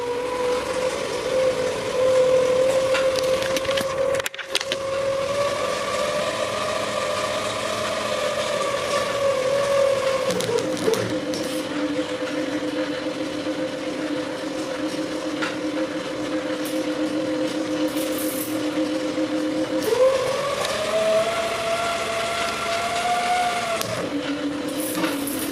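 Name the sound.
motor whining from a pedal-powered battery charger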